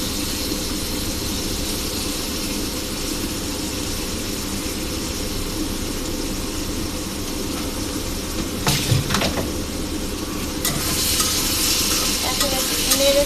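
Tangra fish are stirred into spiced masala in a pan, a loud continuous sizzle with scraping stirs rising near the end, with no talking.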